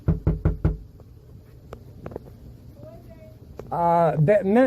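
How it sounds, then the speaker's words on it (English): Four quick, loud knocks on a door open the sequence, evenly spaced in a fast rhythm, followed by quiet room noise and then a person talking. "Let's give it a knock."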